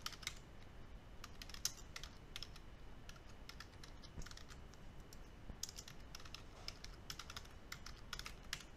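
Someone types a password on a computer keyboard, producing a steady run of quick, soft key clicks with occasional brief bursts, fairly quiet and close, over faint room noise with no talking.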